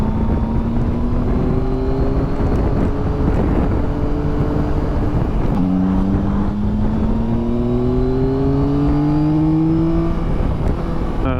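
A loud, continuous three-cylinder engine drone from a 2023 Yamaha Tracer 9 GT motorcycle rises and falls in pitch as the motor revs, with rushing wind noise throughout.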